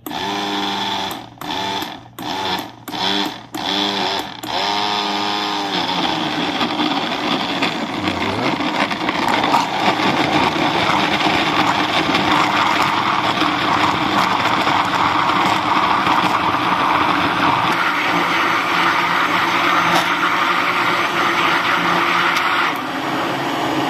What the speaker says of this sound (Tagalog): At i-blend na natin.